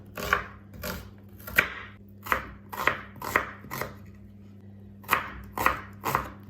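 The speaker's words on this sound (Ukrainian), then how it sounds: "Цибулю нарізаю дрібненько." A knife finely chops onion on a board in a steady series of about a dozen sharp, close knocks, with a low hum underneath and no talking.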